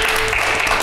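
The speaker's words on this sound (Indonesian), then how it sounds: "Tepuk tangan dulu." Studio audience applause at an Indonesian Lebaran talk show, a dense, steady wash of clapping that fills the short moment at close, loud level.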